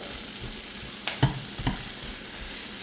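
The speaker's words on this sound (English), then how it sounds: "now we're mixing the already fried onions with the" Onions and garlic fry in a pan on the stove with a steady, close sizzle, broken by a few soft clinks and stirring bumps.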